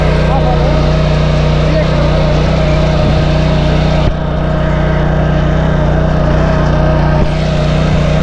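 A power weeder tills heavy soil to about eight inches deep in second gear, its engine giving a steady, loud, continuous drone throughout, with a brief dip midway. Someone talks over the running engine.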